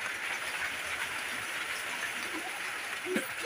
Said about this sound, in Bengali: বৃষ্টি বৃষ্টি পানি পড়া শুরু হলো আবার।